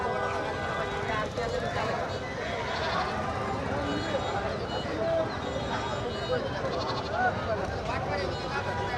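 Goats bleat repeatedly amid a busy, noisy crowd at a rural weekly livestock market in Bangladesh, with people talking loudly nearby throughout.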